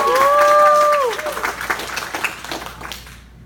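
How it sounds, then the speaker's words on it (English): Applause from an audience at a karate belt ceremony, a short burst of clapping that fades out, with a brief tonal whistle-like sound near the start. "let's give a round of applause for Lainey."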